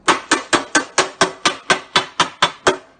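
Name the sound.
ball peen hammer pushing up a car dent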